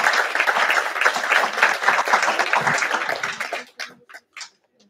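An audience at a COP-29 high-level roundtable applauds a panel, dense clapping that thins out toward the end into a few scattered final claps.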